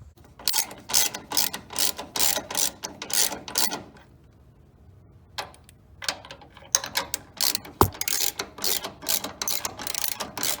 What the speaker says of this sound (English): 1/2-inch ratchet with a 19 mil long socket